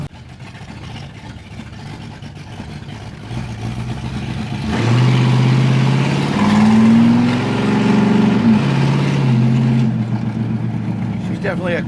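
A 1973 AMC Javelin idles low and steady, then pulls out with a loud engine swell that climbs and falls through several rising revs before settling back, heard close from inside the car.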